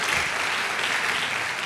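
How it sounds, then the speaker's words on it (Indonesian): A church congregation claps together in a loud, dense burst of applause, continuous and close for under two seconds with no pause. "Bapak Ibu mari kita berikan tepuk tangan dulu yang dahsyat bagi Tuhan kita."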